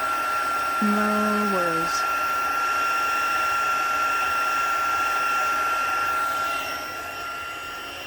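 Steady high whir of a heat tool blowing over stamped paper while embossing a card, loud and continuous, with a brief spoken phrase and a short tonal sound near the start.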